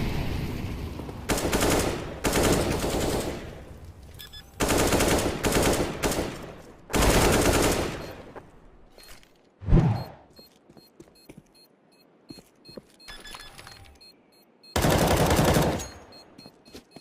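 Gunfire from a first-person shooter game, with several loud bursts of rapid automatic fire separated by short pauses, one sharp single shot and faint scattered sounds between, ending on a final burst.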